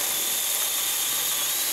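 A cordless 26-volt, 4-inch mini chainsaw cuts through a branch offcut with a steady, high-pitched whining buzz that stays loud and unbroken throughout, with no talking.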